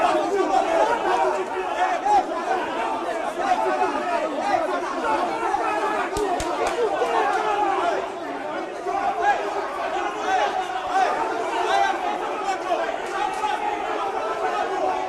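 Corinthians supporters, including members of the Gaviões da Fiel organized fan group, protest outside the team's arrival, a dense, loud crowd of chattering and shouting voices that carries on steadily throughout.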